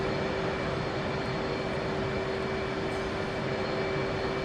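An F/A-18C fighter jet in the DCS World flight simulator game preparing for takeoff: a steady, droning jet engine roar with a constant whine, continuous and unchanging throughout.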